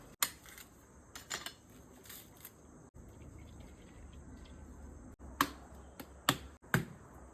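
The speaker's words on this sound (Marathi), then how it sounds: "आपलं नारळ सोलून झालो, तर आता आपण फोडून बघूया" Several sharp, hard knocks as a peeled tender green coconut is struck open, some in quick pairs, over a steady background of chirping crickets.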